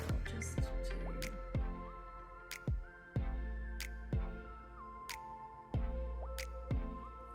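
Acrylic fluid-art paint dripping, with gold and turquoise colours, falling in a series of distinct wet drips and splats at an uneven, unhurried rhythm, close and fairly quiet.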